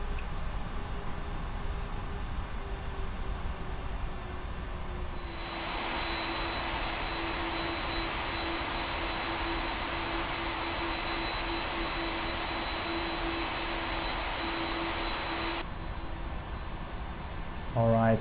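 Jet engines of a PMDG 747-400F cargo jet taxiing in the Prepar3D flight simulator, a steady loud whine and roar that swells with added power partway through and holds, then drops back near the end.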